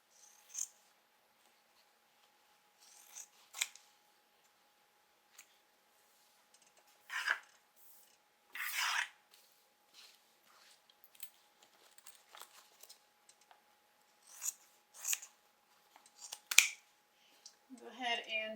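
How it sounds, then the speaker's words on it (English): Sharp scissors snip seam allowance on a fabric crossbody bag in short, irregular cuts spaced by quiet pauses, close and clear, with a brief voice at the end. "Go ahead and trim the seam allowance down."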